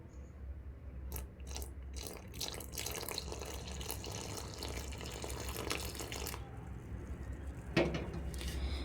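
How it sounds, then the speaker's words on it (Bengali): Hot, freshly boiled water trickling and splashing from a kitchen tap-like pour into a bowl of salted rice flour for Bengali chitoi pitha, a steady wet pour running several seconds with light clinks near the end. "এখন এর মধ্যে আমি দিয়ে দিচ্ছি জল।"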